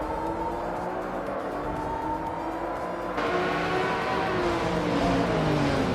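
A vintage 1999 Audi R8C LMP 900 race car in a video game at Estoril gives a steady, buzzing engine drone that holds close and loud, stepping up in pitch and intensity partway through as it accelerates; no talking.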